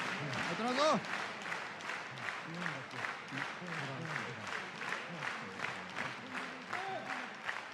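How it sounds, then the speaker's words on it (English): A crowd claps in a steady, rhythmic pulse of broadband bursts while voices talk over it throughout. "They are clapping."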